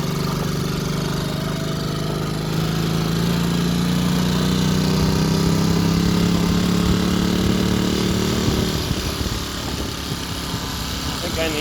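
A restored Honda C102 50cc motorcycle engine idles steadily with a low droning hum close up, then the tone shifts near the end.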